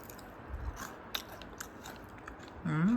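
Crisp bites and crunchy chewing on a Sungsimdang bread roll from Daejeon, a few scattered crackles close to the mic over a quiet background, ending with a brief low murmur.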